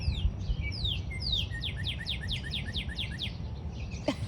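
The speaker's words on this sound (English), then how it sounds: "Man, I hope that bird's not too loud. Hello, Mr. Robin." A robin sings outdoors in a rapid series of bright descending chirps, clear and fairly close over steady low background rumble, with no talk.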